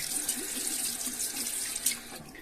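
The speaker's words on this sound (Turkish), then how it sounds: "Bir yüzümü yıkayayım ben." A bathroom tap runs steadily into a sink while someone washes their face, giving an even, close rush of flowing water with light splashing throughout.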